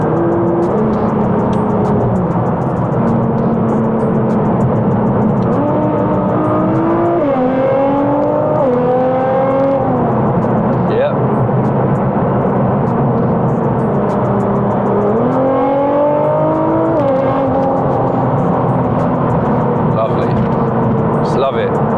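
A Litchfield-tuned 757 bhp Nissan R35 GT-R Nismo in track spec drops through the gears and then accelerates, its engine note stepping up and down in pitch under steady talk from inside the cabin.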